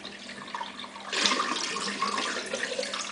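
Cold tap water running steadily from a bathroom faucet during a shave, growing louder and fuller about a second in and then holding a continuous splashing rush close by.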